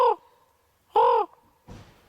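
A person imitates a raven's call outdoors, giving two loud, hoarse croaking caws about a second apart, followed by a softer breathy sound.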